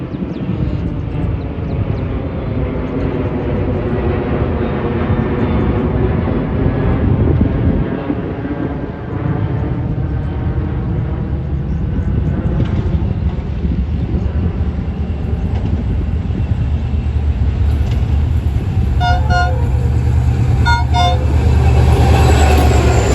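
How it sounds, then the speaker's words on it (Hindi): Mehran Express train arriving at Karsaz railway station behind a GMU 30R locomotive: a loud, continuous diesel rumble and rolling rail noise close by, with horn or whistle tones near the end. "149 अब मेहरान एक्सप्रेस आ रही है GMU 30R के साथ।"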